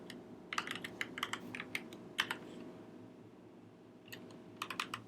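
Keys tapped on a computer keyboard in quick clusters of close, crisp clicks, with a short pause in the middle before another burst of typing.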